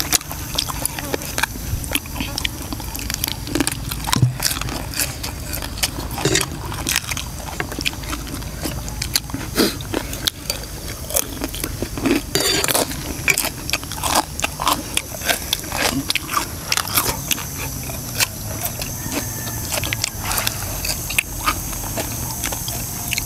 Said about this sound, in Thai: หางหมูกรอบพอดีอ่ะหนังก็กรอบ